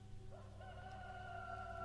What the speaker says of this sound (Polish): I w tej chwili kogut zapiał.